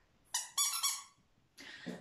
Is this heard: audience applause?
no